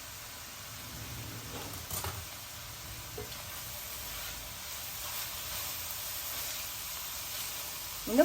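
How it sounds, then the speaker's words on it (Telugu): Onions fry in a pan for a ripe mango curry, hissing in a steady, faint sizzle with a couple of brief utensil clinks. "మన ఉల్లిపాయలు తొందరగా వేగిపోతాయి"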